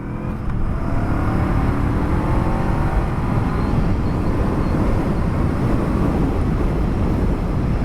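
A 2023 Honda CL500 Scrambler motorcycle pulls hard on the open road, its engine note building steadily as it accelerates, loud and close with heavy wind rush throughout, no talk.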